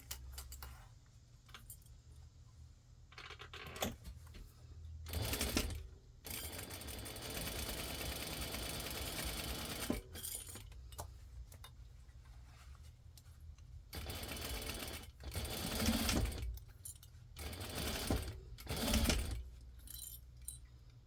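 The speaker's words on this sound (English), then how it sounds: "we're gonna go ahead and sew this together at 3/8 of an inch" A sewing machine stitches a cat-themed Christmas stocking at a 3/8 inch seam, running in several bursts of varying length, with handling clicks and rustles in the gaps between runs.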